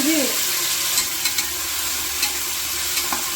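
Fenugreek and coriander greens fry in oil with cashews for mutton biryani, a loud, steady hiss with occasional stirring knocks, close up and without any talk.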